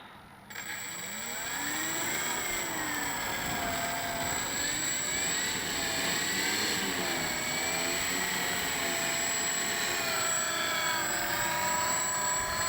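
A Dynam ME BF-109 RC model plane taxis slowly on the ground, its electric motor and propeller giving a close, continuous whirring drone that wavers gently in pitch as the throttle shifts.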